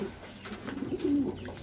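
A racing pigeon cooing nearby, a soft low throaty coo rising and rolling over faint background noise.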